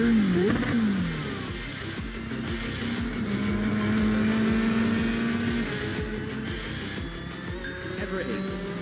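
Race car out on a circuit, the number 3 black car driven by Jessica White, its engine howling and shifting pitch as it laps, loud and steady throughout with a commentator talking over it.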